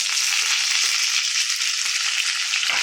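Steady, dense frying crackle of garlic, onion, green and dried chillies and curry leaves in hot oil, close and continuous with no voices.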